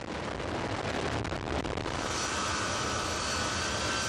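A helicopter flying over Port-au-Prince, Haiti, after the earthquake, its engine and rotor roar steady, loud and broadband throughout with no voices.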